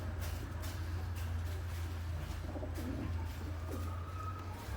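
Soft, low pigeon coos repeat under a steady hum of background noise, with no one talking.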